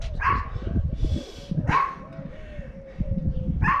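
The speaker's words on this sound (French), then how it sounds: "j'ai un petit chien qui aboie" A small dog barks in sharp bursts at about three moments, close and fairly loud, with a steady low background and faint indistinct voice beneath during a home upper-body workout session.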